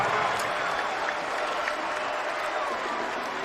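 A home crowd at a men's college basketball semifinal applauds steadily, a dense wash of clapping and cheering that holds evenly throughout.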